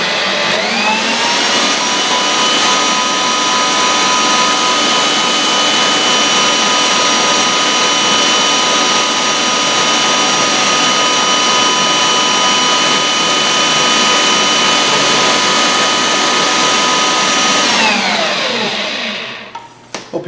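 A stand mixer with a paddle attachment works fat into flour for a homemade baking mix, a loud steady motor whir held at constant pitch for about eighteen seconds before spinning down and stopping.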